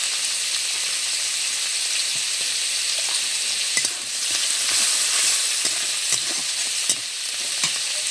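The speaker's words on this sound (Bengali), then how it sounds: "এবারে দিয়ে দিচ্ছি পেঁয়াজ কুচি, থেতো করে রাখা রসুন" Chopped onion and crushed garlic sizzle steadily in hot oil in a pan, a loud continuous frying hiss with occasional stirring scrapes and pops throughout.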